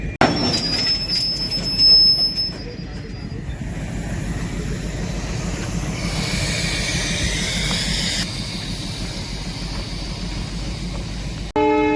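A freight train hauling a ballast machine rolls past close by near Beed, a loud steady rumble of wheels with squealing and clatter throughout, ending abruptly.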